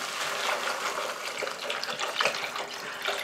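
Water poured from a jug over pinto beans in a pot, a close, continuous splashing gush running steadily throughout without any speech.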